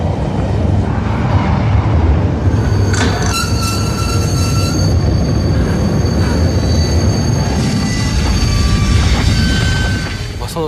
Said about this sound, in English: The rattling and vibration on the train became very violent.